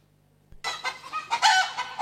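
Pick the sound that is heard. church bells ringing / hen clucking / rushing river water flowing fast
hen clucking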